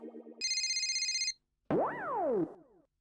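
A phone rings with a short electronic melodic tone, followed by a cartoonish sliding boing-like jingle, loud and close with brief gaps of silence.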